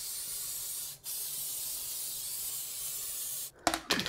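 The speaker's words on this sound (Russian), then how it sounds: "вы можете при помощи растительного масла, нанесу немного на баранину." Vegetable oil sprays onto a lamb shoulder before roasting: one long, steady, close hiss, broken by a brief gap and ending in a few short, sharp bursts.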